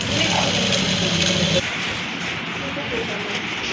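A sewing machine stitching a luggage bag runs steadily and loudly with a close, dense mechanical whir, while a voice talks over it throughout.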